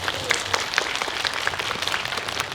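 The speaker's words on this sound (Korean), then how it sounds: "박수 한번 부탁드리겠습니다." An audience at a Busan International Film Festival guest-visit screening applauds steadily, a close, even patter of many hands clapping with scattered sharper claps and no speech.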